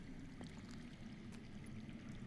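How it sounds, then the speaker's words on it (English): Faint underground water flowing somewhere below in a Game of Thrones video game scene, a soft continuous low rushing with light splashy detail, distant and quiet. "I hear water. from underground."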